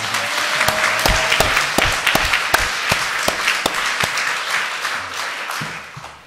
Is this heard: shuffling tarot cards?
no